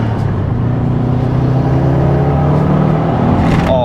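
A turbocharged Subaru Impreza STI Ltd JDM bugeye accelerating, giving a loud, sustained engine drone with rising harmonics and some turbo whoosh, close up and with nobody talking.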